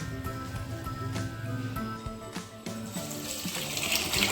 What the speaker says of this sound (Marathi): पाणी गरम झालं आता त्यात डाळीमध्ये ओतलं मम्मीने